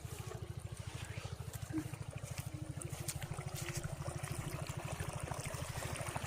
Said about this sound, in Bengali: এখন মেশিন থেকে কত স্পিডে জল বের হচ্ছে